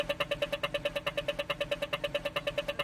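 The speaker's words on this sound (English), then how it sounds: "when the walk sign turns on, you hear this like rhythmic sound" An Australian pedestrian crossing signal ticks steadily at an even rhythm, about eight beats a second, fairly faint over a low background hum.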